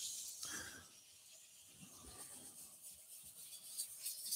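Wet sanding an oiled wooden cheese platter on a lathe turning at very low speed, a faint soft hissing rub of abrasive across the wood grain, quiet and continuous with small swells.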